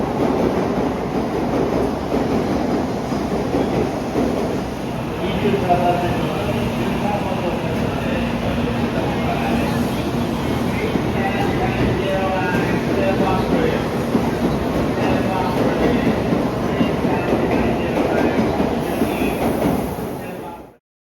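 A train in Japan rumbles steadily nearby with a rhythmic rattling of the cars and a high electric whine, while people talk beneath the noise.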